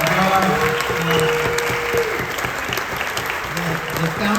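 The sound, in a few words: applause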